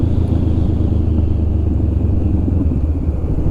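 Honda Rebel 500 motorcycle riding, a steady loud low engine rumble with continuous drone and no talk, the machine close by throughout.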